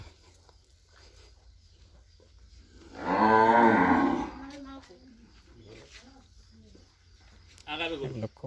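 A bull lows loudly for about a second at a cattle market, close by, with quieter voices talking before and after and another short animal call near the end.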